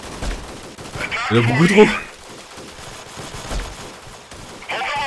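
Gunfire in a guerrilla warfare shooter video game comes as a burst of rapid shots against enemies, followed later by another short volley, while someone talks in French throughout.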